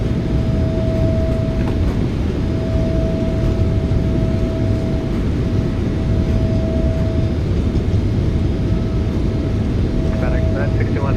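A PMDG 777F freighter in a flight simulator game rolls out after landing with thrust reversers deployed, giving a loud, steady jet engine roar that continues throughout under a faint sustained tone.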